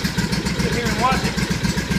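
A cold-started engine, apparently a motorcycle, idles steadily in roughly ten-degree cold with a weak battery, running lean with a low, even throb throughout.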